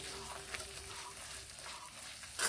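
Banana flower for a vegetarian curry being sautéed with spices in oil, a faint low sizzle with soft stirring and a short louder scrape at the end.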